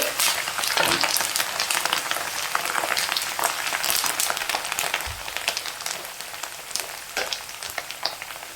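Dried red chillies and curry leaves fry in hot oil for a tomato pickle, a dense, crackling sizzle that runs steadily with sharp pops scattered throughout.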